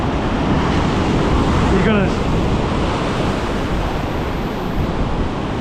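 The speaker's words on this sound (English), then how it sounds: "So you look at these really big breaks coming in through here now." Large surf breaks on Tamarama beach in Sydney, a loud continuous roar of crashing waves mixed with wind noise, while someone says a few words under it.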